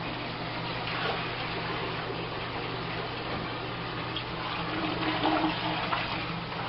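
Saltwater aquarium water pours steadily into a toilet bowl, a continuous close gushing splash lasting several seconds without talk.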